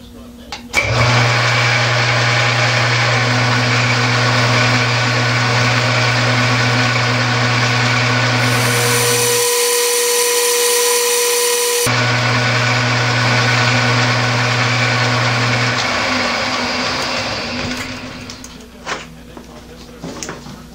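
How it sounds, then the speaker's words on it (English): A lathe drills with a centre drill, a steady, loud mechanical whine and hum, its pitch shifting briefly midway before settling, then winding down near the end. "we'll put a centre drill in and start drilling that out"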